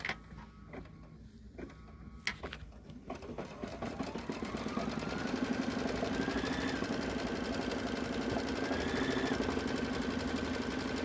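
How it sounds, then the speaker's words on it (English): A sewing machine tacks down cream-colored fabric. A few clicks and knocks come first, then the motor spins up into a steady, rapid mechanical whirr. "the next step is to actually tack down the cream color fabric"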